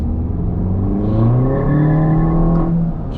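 A 1.8T Mk2 Volkswagen GTI running low boost pulls away hard with wheelspin, its engine note climbing steadily and loud up close before easing off near the end.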